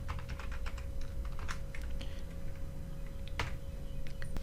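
Steady, close computer keyboard typing of PHP code, a fast run of crisp key clicks with brief pauses and one louder keystroke near the end, no voices.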